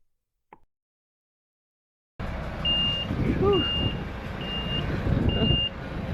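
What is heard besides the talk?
truck delivering river stone, reversing beeps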